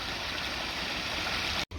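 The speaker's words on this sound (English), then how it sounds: "Lovely clean water, beautiful sounds." Clean woodland stream flowing, a constant broad rushing and trickling wash of water heard nearby, briefly cut by a short gap near the end.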